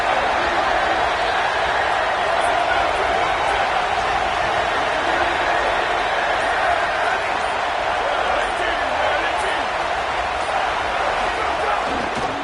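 Stadium crowd noise in a college football video game with the Cornhuskers playing: a loud, dense, unbroken roar that holds steady throughout.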